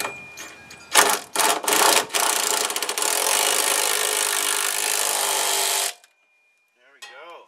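Ratcheting and scraping as a bolt is tightened on a new rear bump stop for a 1999-2004 Jeep Grand Cherokee: a few short bursts, then about three seconds of steady close grinding that stops abruptly, followed by brief speech.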